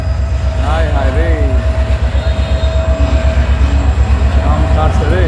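A crowded passenger train rolls past with a steady, loud rumble and rhythmic wheel clatter, while someone talks excitedly close by over the noise.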